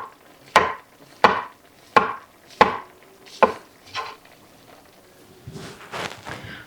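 A knife slices mushrooms thinly on a cutting board in six crisp, evenly spaced thunks that grow softer, followed by a few quieter, looser taps.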